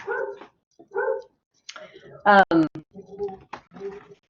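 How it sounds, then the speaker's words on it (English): A neighbor's dog barks loudly in a quick series of sharp barks and yips with brief pauses between them, close and clear over otherwise quiet surroundings. "That dog is barking so loud."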